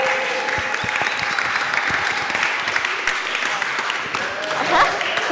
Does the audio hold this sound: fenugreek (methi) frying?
no